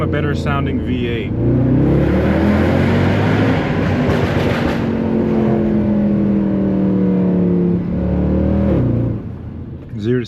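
Inside a 2009 Mercedes C63 AMG, the V8 pulls hard through a loud, sustained acceleration, its rising exhaust roar filling the cabin before easing off near the end, with someone speaking over it.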